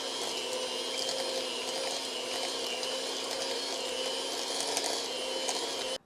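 Electric mixer beating soft, room-temperature cream cheese for a no-bake pumpkin cheesecake, a steady, close motor whine holding for about six seconds before cutting off abruptly.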